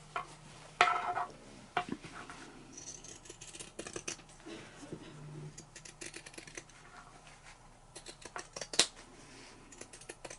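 Scissors or pinking shears snip through two layers of fabric together for a no-sew Valentine's pillow, giving faint, close, irregular clicks and crisp cuts against a quiet room.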